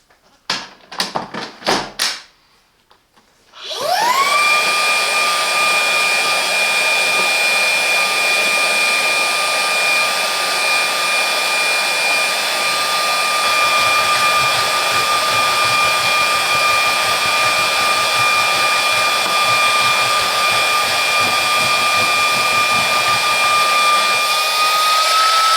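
A Silvercrest SPRA 20 A1 20V cordless upholstery and carpet cleaner gives a few handling clicks and knocks, then its motor starts with a rising whine. It settles into a loud, steady whir with a high tonal hum that runs on alone.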